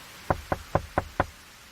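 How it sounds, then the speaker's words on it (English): Five evenly spaced knocks land on a door, firm and close, with a steady rhythm and quiet between each rap. "I heard a knock."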